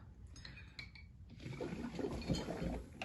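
Air is blown through a straw into paint liquid in a cup, with a few light clinks at first, then building bubbling and gurgling, close and moderately quiet.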